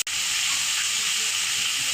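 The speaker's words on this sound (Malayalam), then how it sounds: "ഇനി അരപ്പ് ചേർത്ത് വെച്ച് പടവലങ്ങ അരിഞ്ഞ് വെച്ചേക്കുന്നത് ഇട്ട് കൊടുക്കാം." Ground paste and chopped snake gourd hit a hot pan of oil with mustard seeds and dried red chillies, giving a loud, continuous, close hiss that holds evenly for two seconds.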